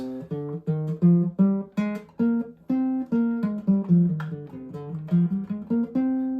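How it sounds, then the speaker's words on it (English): A piano plays a steady run of single notes stepping through a C natural minor scale, each note struck clearly and ringing briefly, heard alone. "That's what we would call a C natural minor scale."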